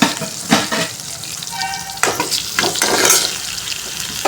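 Onions and dried red chillies sautéing in a pan give a steady, close hiss and crackle of frying, punctuated by a few scraping stirs and a brief light clink, with no one talking.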